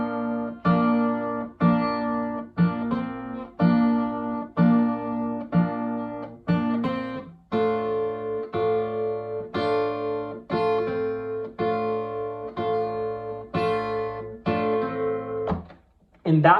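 Strummed acoustic guitar chords, played in a steady repeating rhythm with the pinky lifted on the fourth beat, each chord ringing clearly and close, alone without talk, ending in a brief pause and fresh strum.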